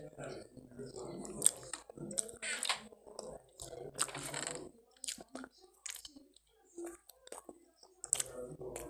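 Someone chewing and eating food at close range, a run of wet crunchy bites and smacking mouth sounds with some clicking mixed in, fairly loud and uneven in rhythm.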